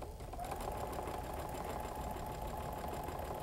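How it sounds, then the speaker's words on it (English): A sewing machine stitches quilt fabric with a steady, fast mechanical chatter, close but quiet, running alone for a few seconds. "While I sew."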